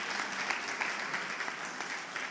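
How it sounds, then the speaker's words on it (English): Steady, moderately quiet applause from a seated audience at a medical research day, honoring a panel, an even rush of many hands clapping together without a break. "Can we give our panelists a good round of applause?"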